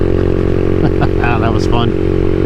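A CSC SG250 motorcycle fitted with a MotoCult Stage 4 kit accelerates uphill, its loud, close engine drone holding steady harmonics while a rider talks over it.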